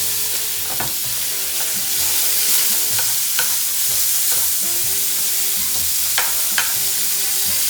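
Ground beef frying in a hot skillet on a stove, a dense continuous sizzle with occasional spatula scrapes and taps as the meat is broken apart, loud and close, no voices.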